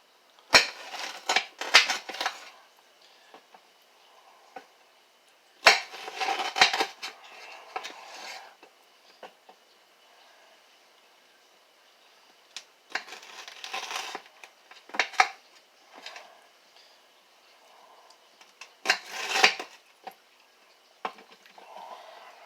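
A knife slices food, splitting it down the middle on a cutting board, giving several separate crunchy cutting bursts with quiet gaps between them, close and fairly soft, with no talking.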